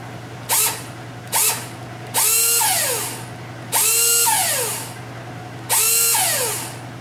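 Small electric motor driven through a MOSFET without active braking, heard in five bursts: short whines that rise and then slowly fall in pitch as the motor coasts down, the later ones longer, under a steady hum, with no talk.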